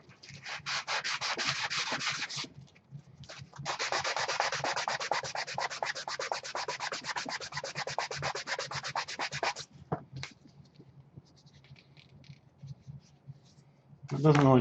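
Liquid Nails gap filler on EVA foam is sanded with rapid, rhythmic back-and-forth scratchy rubbing strokes that pause briefly before fading out, while a person talks over the scraping.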